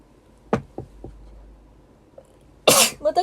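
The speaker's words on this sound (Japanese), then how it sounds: "またくしゃみして本当に" A woman's sneeze, sharp and close, bursting loudly after a few quiet taps and a brief pause, with a small follow-up sound trailing off.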